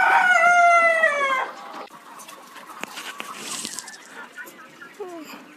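A Kadaknath rooster crows loudly and close at the start, followed by scattered clucks and softer calls from chickens on a poultry farm.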